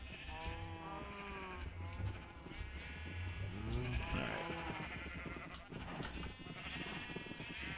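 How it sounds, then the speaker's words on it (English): Several sheep bleat in Minecraft, overlapping wavering calls from a bred flock near spawn, moderately close and continuous over a busy game background with no talk. "So it looks like we've been breeding some sheep."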